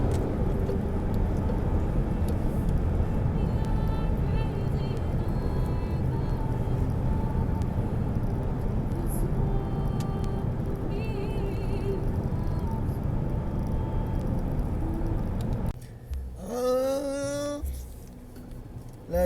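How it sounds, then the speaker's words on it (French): Cars idle and creep through a big-city traffic jam about 800 metres long, giving a steady low engine rumble heard from inside a vehicle; near the end the rumble drops away and a few rising, sweeping tones stand out. "La joie de la circulation dans les grandes villes."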